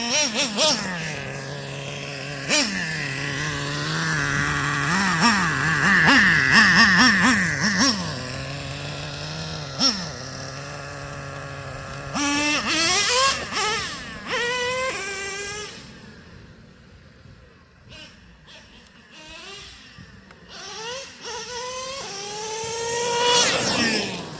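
A car engine revs up hard and climbs quickly through the RPMs, with quick gear shifts cutting the tone between rising sweeps, loud and close, then dropping to a quieter stretch before revving again near the end.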